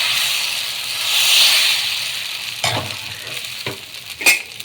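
Flattened-rice (atukula) dosa batter sizzling on a hot pan with oil, a steady frying hiss swelling midway, broken by a few sharp scraping or tapping clicks near the end.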